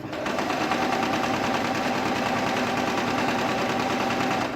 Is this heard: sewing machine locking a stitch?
yes